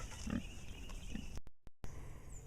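A pig in a pasture gives a couple of low, short grunts at close range over steady outdoor background noise, followed by a brief break in the sound.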